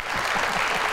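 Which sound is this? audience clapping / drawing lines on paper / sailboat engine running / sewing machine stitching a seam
audience clapping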